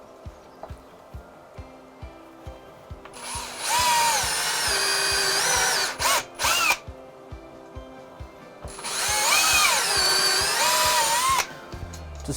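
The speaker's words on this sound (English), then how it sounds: "I'm going to be using this drill bit that you'd normally use if you're making pocket holes." A power drill with a pocket-hole bit bores into wood from an old whiskey barrel, whirring in two long bursts with a brief stuttering start between them, over a steady low rhythmic hum in the background.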